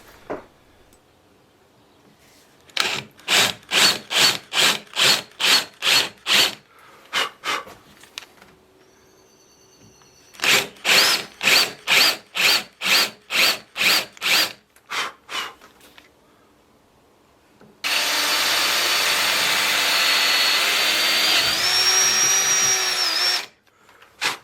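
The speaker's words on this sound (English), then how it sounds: "I will then drill out for where the steel goes in" A power drill boring into a wooden knife block runs in two series of short rhythmic bursts, loud and close, followed by a longer continuous high whirring grind.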